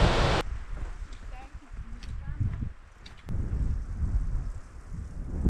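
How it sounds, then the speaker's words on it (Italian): A waterfall beside a mountain trail in the Aosta Valley makes a steady broadband roar of rushing water from some distance, with bursts of wind buffeting the microphone. "Sentiero che passa vicino a questa cascata veramente fenomenale"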